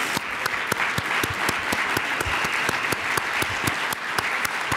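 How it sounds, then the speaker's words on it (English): Prolonged applause from a standing audience at the closing of a cognitive aging summit, dense continuous clapping with sharp individual hand claps, sustained and even throughout. "Please stand and let us give you this prolonged and enthusiastic applause."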